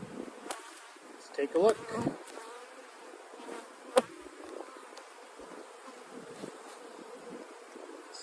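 Honey bees drone steadily inside an open hive on a cool April day, a continuous close buzz with a few louder swells as frames are handled, while a voice speaks briefly over it.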